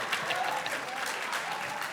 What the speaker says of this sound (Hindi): इस बात पर एक बार फिर से जोरदार तालियां फॉर शकील सिद्दीकी।